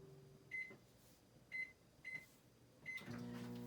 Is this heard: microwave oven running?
yes